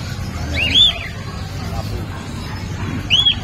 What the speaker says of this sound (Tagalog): Tignan natin yung mga ibon niya rito.